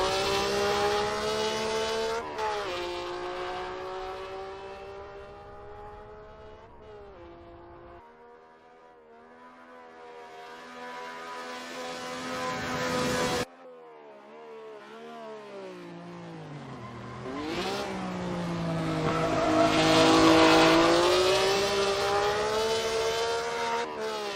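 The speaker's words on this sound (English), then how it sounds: "just a little bit of a sound clip relative to the Maserati that's coming up" Maserati V12 race car engine in a sim racing game, loud revving that climbs and falls through gear changes, dropping off before surging back to a high wail, heard alone without talk.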